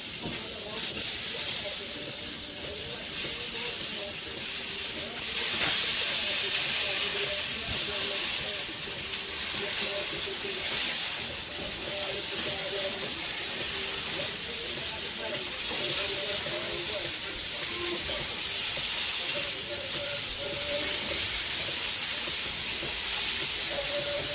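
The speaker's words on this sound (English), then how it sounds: "I hear my sizzle, so I know my pan's hot enough." Steady, hissing sizzle of beef short rib searing in a hot pan, continuous and close, with a faint hum in the background.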